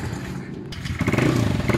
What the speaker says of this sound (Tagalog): Road test na, road test ng click.